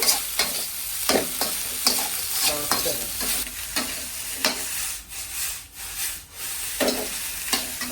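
Rice for garlic fried rice is tossed and stirred in a small, well-heated wok, with repeated sharp spatula scrapes over a continuous loud sizzle and a few short lulls.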